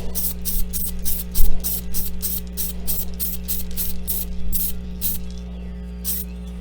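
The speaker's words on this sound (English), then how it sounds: "Ideally, you kind of want to start the spray off the figure and carry the stream across it" An airbrush-style spray gun fires short, rapid bursts of paint across a miniature figure, a rhythmic series of hissing puffs over a steady background hum.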